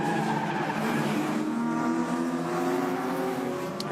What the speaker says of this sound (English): Locking the rears a little bit there.